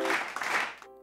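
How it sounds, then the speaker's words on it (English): Young children clap their hands together in a classroom during story-time, a dense burst of quick overlapping claps that fades out, with a voice joining briefly at the end. "Clap your hands, clap your hands, clap your hands."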